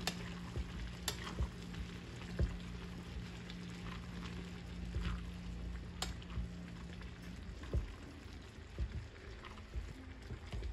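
Pancit bihon rice noodles with vegetables sizzling and being stirred in a pan outdoors in a garden, a steady crackling fry with scattered scraping clinks from the utensil, moderately close with a low hum beneath.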